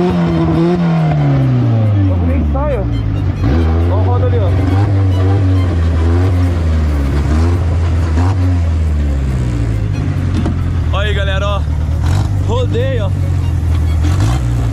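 Formula 1 car engine in a racing video game, its pitch climbing and dropping through repeated gear shifts, loud and continuous, with someone talking excitedly over it.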